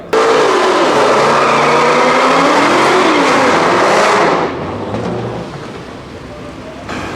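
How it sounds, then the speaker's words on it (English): A Ford Mustang roars down a drag strip alongside another car at a multi-track drag event, a loud sustained engine howl with rising tones that drops away sharply after about four seconds, leaving a softer distant rumble. "John Bean with the Mustang going alongside Ray Beaumont"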